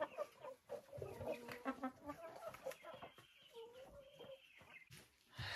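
Hens cluck and chatter nearby in a series of short, choppy calls, with a faint drawn-out squawk partway through.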